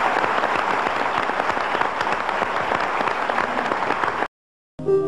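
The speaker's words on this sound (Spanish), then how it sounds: "Que le brindemos un fuerte aplauso" Audience applause for a pianist at an evening music program of songs, a dense, steady burst of clapping that runs loud for about four seconds, cuts off abruptly, then briefly resumes.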